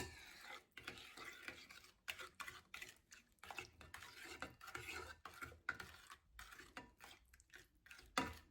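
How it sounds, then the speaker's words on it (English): Prune loaf batter being mixed with prune syrup in a bowl, a spoon scraping and knocking in irregular close strokes with brief pauses, no talking. "and 2 tablespoonfuls of prune syrup. Mix everything together."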